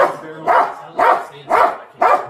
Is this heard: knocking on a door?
no